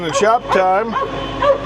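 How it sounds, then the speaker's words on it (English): A Labrador barks and yips outside in short bursts with whimpering tones while someone talks over it close by. "Hope you can excuse the noisy barking Labrador out there."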